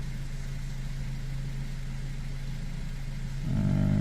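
Mazda 3 engine idling during an idle speed relearn, a steady low hum with a constant tone, then the pitch and level step up near the end as the idle rises.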